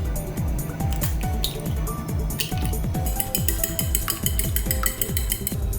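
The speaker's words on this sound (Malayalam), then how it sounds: "ഇനിയും നമ്മളുടെ മുട്ടയൊന്ന് ബീറ്റ് ചെയ്തെടുക്കുക." Eggs are beaten in a bowl for a chapathi egg roll, making quick, rhythmic wet slaps and clinks that repeat steadily and close up. Occasional kitchen clatter sounds in the background.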